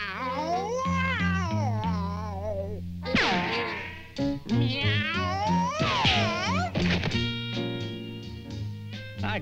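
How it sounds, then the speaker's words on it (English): A cartoon cat yowls and meows in a long, wavering, distorted caterwaul, loud and close, its pitch sliding up and down with echoing, effect-laden tones. "Silence that cat at once!"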